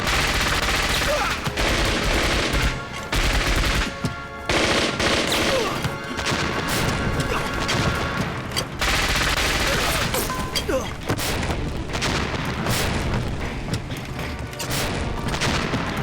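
Dense, continuous gunfire with bursts of automatic fire and heavy booms from an explosion during a firefight aboard a ship, loud and near throughout, with shouting voices now and then.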